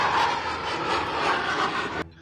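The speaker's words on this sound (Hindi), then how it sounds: "आसमान में उड़ते रफाल विमानों की गड़गड़ाहट ऐसी कि देश के दुश्मन कांप उठे।" Rafale fighter jets roar overhead during a parade rehearsal flypast, a loud, dense, continuous rumble that cuts off abruptly near the end.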